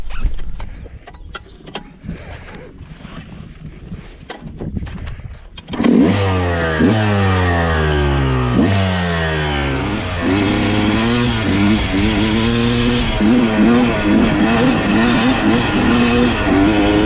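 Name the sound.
stock motorcycle engine revving and riding laps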